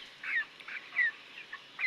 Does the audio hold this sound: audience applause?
no